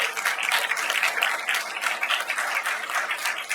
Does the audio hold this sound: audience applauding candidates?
yes